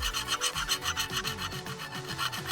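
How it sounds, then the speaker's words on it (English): A hand file is drawn across a lawn mower blade to sharpen it, giving rapid rhythmic rasping strokes back and forth, close and moderately quiet. "But as you run your file, you can feel like a little resistance in spots."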